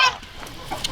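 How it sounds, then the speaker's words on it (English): An old turkey on a farm gives a brief, close honking call at the start, followed by faint rustling. "Let's say hi to the old turkeys."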